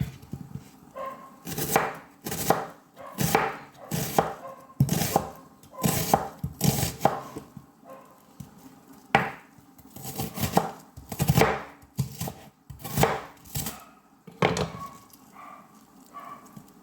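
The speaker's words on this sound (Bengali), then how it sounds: "বেশ বড় একটা পেঁয়াজ, বেশ বড়। তো আমি অর্ধেক কাটিয়ে নিই।" A large onion being chopped with a knife, heard as a long run of sharp, close chopping strikes in uneven bursts, each followed by short pauses, with no talk.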